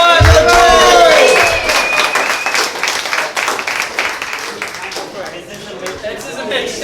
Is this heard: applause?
yes